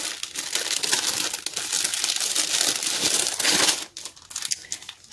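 A crinkly plastic package of flower stickers is handled and torn open up close, giving a continuous dense rustling and crackling that eases into a few softer crinkles.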